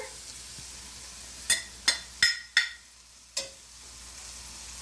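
Onions frying in a pan as a spice mixture is tipped in and stirred, a handful of sharp clacks and scrapes over a faint steady sizzle, close by with no voices.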